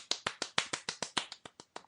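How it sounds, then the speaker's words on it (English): A single person claps with one palm striking the back of the other hand, about a dozen sharp, evenly spaced slaps that grow a little softer and sparser toward the end, close and alone. "They applaud with one palm striking the back of another hand."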